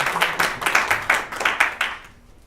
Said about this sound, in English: Round of applause, please, for a volunteer.